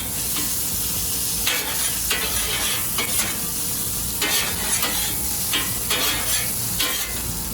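Hibachi-style fried rice sizzles steadily on a hot surface while being stirred and scraped, the bursts of scraping coming in irregular rhythmic strokes over a constant close hiss, with no talk.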